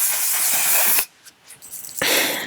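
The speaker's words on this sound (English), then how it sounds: "use my One Size Until Dawn mattifying waterproof setting spray" A One Size Until Dawn mattifying waterproof setting spray is misted onto a face in two loud, close hissing bursts with a short quiet gap between them.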